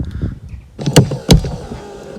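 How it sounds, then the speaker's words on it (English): A brief electric motor whir followed by two sharp mechanical clunks close by, as an Audi A4 convertible roof starts to open and halts, its pump motor not kicking in. "let's see what happens now when I go to open the roof"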